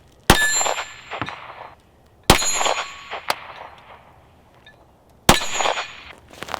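Three sharp, loud 9mm shots fired with reloaded Shell Shock cases that have not been resized, each a crisp crack with a brief metallic ring, spaced a couple of seconds apart.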